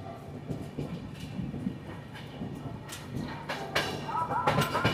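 Inside the Sealdah Rajdhani Express, hauled by an Eastern Railway WAG-7 locomotive, a low rolling rumble carries steady rail noise with occasional clanks and thumps growing louder toward the end.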